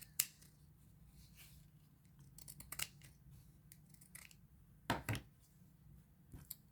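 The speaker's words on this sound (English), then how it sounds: "So let's just cut this side of it." Scissors snip through fabric in a handful of sharp, close cuts spread irregularly over several seconds, with a faint steady hum underneath and no talking.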